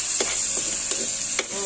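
A hotdog fries with garlic in a pan while spaghetti is being cooked, giving a steady close sizzle broken by a few soft stirring clicks, with no talking.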